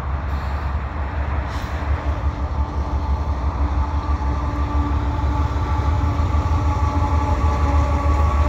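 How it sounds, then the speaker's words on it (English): A CP double-stack freight train rolls slowly past near the Beaurepaire railway crossing, with loud, steady wheel rumble and low engine drone from GE AC4400CWM locomotives, close and continuous throughout. "Looks like a double stack train."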